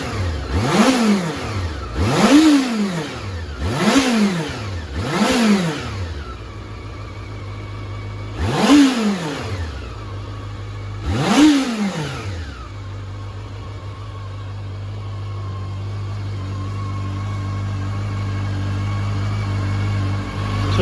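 A 1989 Honda CB1 motorcycle engine idles and is blipped in a run of sharp revs, four quick ones close together then two more spaced apart, before settling back to a steady idle, loud and close with no talk.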